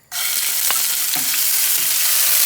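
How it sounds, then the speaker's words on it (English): Garlic paste drops into very hot oil for a stuffed bitter gourd dish. A loud sizzle bursts up suddenly and then holds steady, broken by a few scrapes of stirring, with no speech. "as oil is very hot, so I'm going to add garlic paste."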